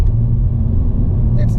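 A 2022 Honda Civic Sport hatchback with a CVT accelerates on a local street, a steady low engine drone heard from inside the cabin without any distinct revving.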